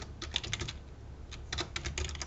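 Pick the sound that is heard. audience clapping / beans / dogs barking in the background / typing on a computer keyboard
typing on a computer keyboard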